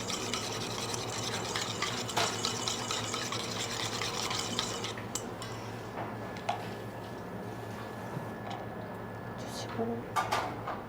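A truffle vanilla mixture strained through a sieve in a chef's kitchen demonstration makes soft scraping and stirring sounds with occasional clinks of metal utensils against a pot, close and moderate in level, over a steady background hum.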